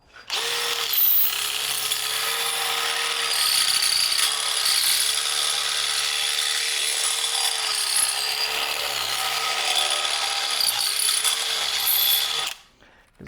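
Power drill running nearly nonstop for about twelve seconds, widening an existing hole in wood, with slight dips in motor pitch as the bit bites, loud and close, then cutting off near the end.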